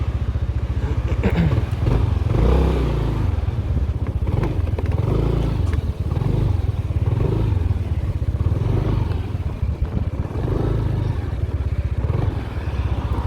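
Yamaha Nmax 125 scooter engine idling: a low, steady, rapid putter with faint mechanical clatter, close and continuous throughout, with slight rhythmic fluctuations.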